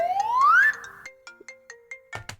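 A phone ringtone plays a rising electronic tone, then a series of short evenly spaced beeps, loud and clear with no talking.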